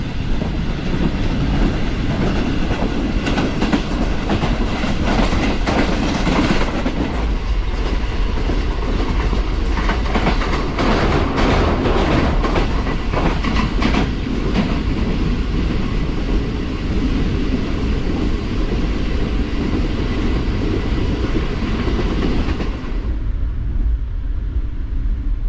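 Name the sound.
Pakistan Railways Green Line train travelling, heard from inside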